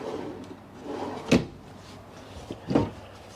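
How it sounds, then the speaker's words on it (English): Wooden drawers in the kitchen of a 2023 Winnebago Minnie 2832FK front-kitchen travel trailer slide and close with two sharp knocks about a second apart, near and fairly loud over a quiet room murmur. "And then you get your drawers."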